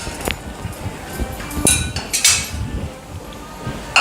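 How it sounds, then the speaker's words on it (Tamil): Metal pan clanks and scrapes as it is lifted off a kitchen stove after sautéing peas masala, with a few sharp clinks and knocks spread over a few seconds. "இதை அடுப்பை விட்டு நான் இறக்கிடுறேன்."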